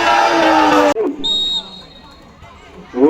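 A referee's sharp, high whistle blast sounds briefly at a football match after loud crowd noise cuts off, then fades into quieter background murmur before the crowd swells again.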